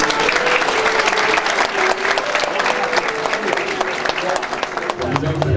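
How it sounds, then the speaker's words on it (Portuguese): An indoor crowd at an award ceremony gives a sustained round of applause for the honorees, dense steady clapping that fills the room and tapers slightly near the end. "Uma salva de palmas aos agraciados."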